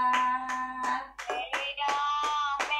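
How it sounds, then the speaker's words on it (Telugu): A church congregation claps hands in praise during a Telugu worship service, a steady run of sharp, loud, evenly spaced claps at close range with some tonal backing sound beneath. "చప్పట్లు కొట్టి దేవుని మహిమ పరచమని"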